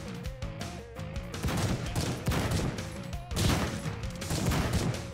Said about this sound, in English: Shotgun. Oh, this one has 12 shots.